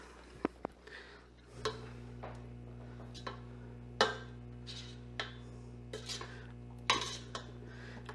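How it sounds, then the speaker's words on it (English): Carrots being tossed in melted butter in a pan, with scattered clinks and taps of a utensil against the pan over a low steady hum, close and fairly quiet. "we're just tossing them in our butter so that that's all melty"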